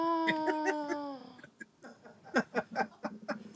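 A cheap, cartoonish bird-call sound effect sounds as a quick series of bright, wavering chirping tones, then breaks into choppy, irregular squawks and laughter-like bursts, fairly close and clear.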